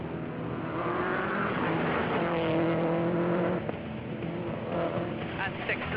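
Rally cars drive off from Ajaccio at the start of a stage, a sustained engine drone with a rising, shifting pitch, heard under a talking voice.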